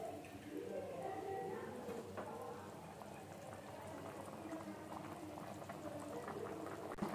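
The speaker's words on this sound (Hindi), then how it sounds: "पानी में बॉईल आना शुरू हो गया" Water bubbles at a rolling boil in a pot while chicken pulao is being cooked, a constant close burbling texture with small pops. It stays steady and moderately quiet throughout.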